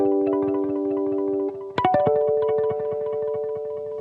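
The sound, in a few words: guitar through Strymon El Capistan tape delay pedal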